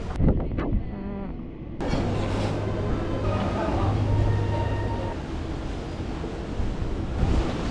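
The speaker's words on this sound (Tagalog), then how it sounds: "Ang lakas ng alon kuya oh." Strong sea waves surge and wash continuously against the shore at Bellevue Bohol, loud and close with wind buffeting the microphone and a brief tonal hum mid-clip.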